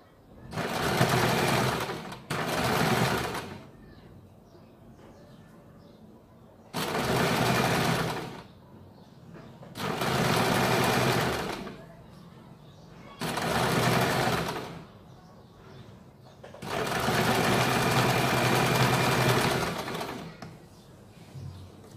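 A sewing machine runs in six bursts of double stitching along the joined side seam of a kurti, each run lasting one to three seconds with short pauses between, loud and close.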